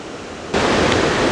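River water flows down below a covered bridge in the White Mountains of New Hampshire, a steady broadband rush that swells louder partway through, with no voices.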